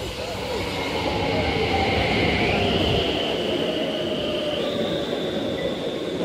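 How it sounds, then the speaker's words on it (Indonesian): A train moves through a station in Stockholm, Sweden, with a steady loud rumble of wheels on rail and rising tonal whines and squeals from the motors, heard up close. "Ini kita lagi nunggu keretanya gengs."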